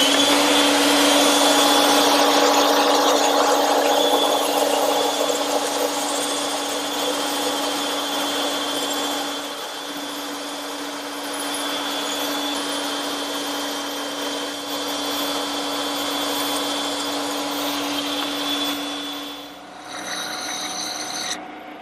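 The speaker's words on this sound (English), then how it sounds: "now I'm ready to cut those out using my bandsaw." A bandsaw cuts table-leg shapes out of a wooden board for a candle stand, giving a steady, continuous mechanical whine with a rasping blade hum that runs throughout before the cut ends and the tone shifts near the finish.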